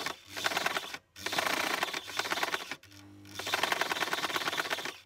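A sewing machine stitches down the band of a dress in steady rapid bursts, stopping briefly between runs of stitching, close and fairly loud with no talking.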